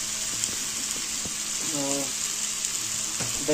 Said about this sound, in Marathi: पहिला अशी मिरची तळ करून घ्यायची